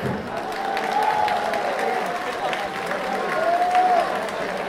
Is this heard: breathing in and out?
no